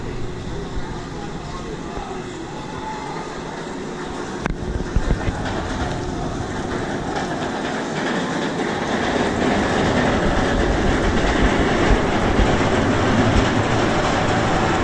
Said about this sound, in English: That noise is another train on Gatekeeper going up the lift hill.